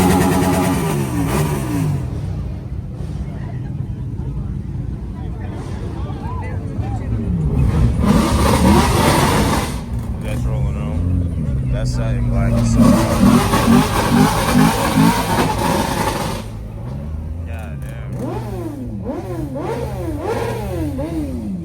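A motorcycle engine revs repeatedly in bursts, rising and falling throttle blips with louder surges mid-clip, fairly close, mixed with car engine noise and occasional talk.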